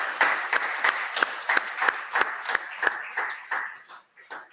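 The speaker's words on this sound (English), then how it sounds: "Let's give them an applause." An audience claps at a book launch, sharp, distinct hand claps at a fairly even rhythm, moderately close, that thin out toward the end with no talk over them.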